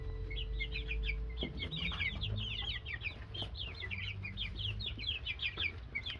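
Young five-week-old chicks, just getting their true feathers, chirp and cluck continuously in a small indoor space, many overlapping high calls close by over a low background hum.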